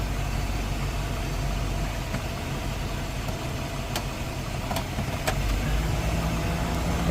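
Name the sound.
1998 Express 3500 van engine running at idle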